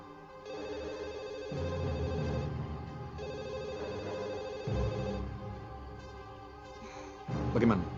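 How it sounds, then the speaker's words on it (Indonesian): A telephone rings repeatedly in a steady ringtone pattern at moderate level during an unanswered call attempt in an Indonesian period drama, with a low background hum throughout. "Lebih baik kamu coba hubungi lewat telepon dulu."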